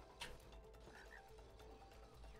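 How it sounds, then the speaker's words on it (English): A frog croaks once in the video game It Takes Two, a short low call set against steady background game ambience. "Now frog."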